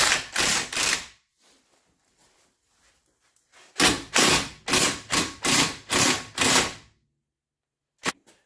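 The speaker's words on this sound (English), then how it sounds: "Just run a nut on there. And then pull it through." A ratchet wrench tightens a nut to pull a wheel stud through a brake rotor, sounding as bursts of loud, rapid mechanical clicking with a long pause between them and one final short snap.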